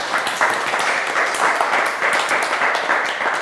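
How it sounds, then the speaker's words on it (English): An audience at a 1 Million Cups business meetup gives a round of applause, a steady, dense wash of clapping held at even loudness for a few seconds. "Let's give him a round of applause."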